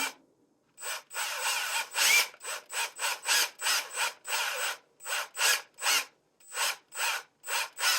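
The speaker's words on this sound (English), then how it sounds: "grab my pliers, grab onto the edge, and start twisting" Pliers twisting copper wire for stained-glass jump rings, a close rhythmic series of short ratcheting, rubbing squeaks repeating steadily.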